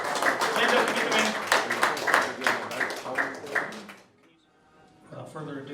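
Round of applause for Tammy Chambers at a landlord association meeting, a modest audience clapping steadily for about four seconds, fairly close, then stopping into near silence before faint voices resume.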